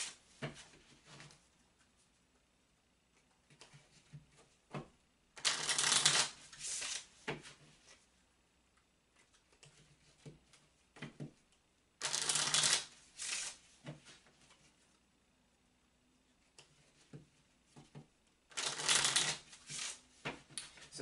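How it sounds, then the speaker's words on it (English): A deck of Gypsy Witch oracle cards is shuffled by hand in three distinct bursts of riffling and flicking, close and crisp, separated by quiet pauses with faint handling noise. "I need to shuffle the cards my other way, just for a moment"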